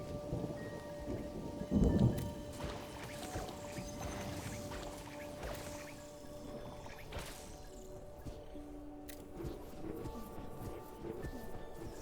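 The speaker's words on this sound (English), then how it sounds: "I really hate rain" Steady rain pours throughout in the video game Mind over Magic, with a loud thunder crack near the two-second mark and softer rumbles rolling underneath.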